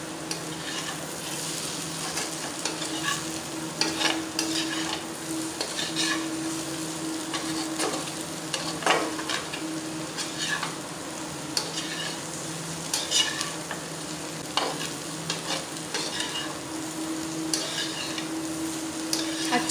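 Potatoes and onions with red chili powder being stirred in a frying pan, a steady low sizzle with scraping spoon strokes recurring irregularly throughout, close and moderately loud with no talking.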